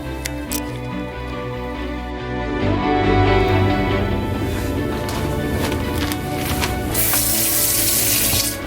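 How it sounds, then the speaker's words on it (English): Tap water running into a sink being filled with soapy water for washing, a steady close splashing and gurgling stream that swells slightly and continues throughout, with no speech. "Fill sink with a little bit of soapy water"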